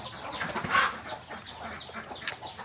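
Chickens cluck and squawk close by, with several birds calling over a busy farmyard background where chickens and ducks are raised together.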